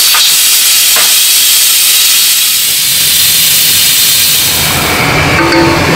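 A Kitchen King pressure cooker hisses steam after the stove is switched off, a loud, steady close-up rush of venting that holds unbroken throughout, with a faint higher whistle creeping in near the end.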